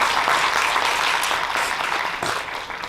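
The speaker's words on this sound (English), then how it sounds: "All right, another applause." A conference audience at a Sikh research summit applauds after a presentation, a close, steady burst of clapping that gradually thins out over a few seconds.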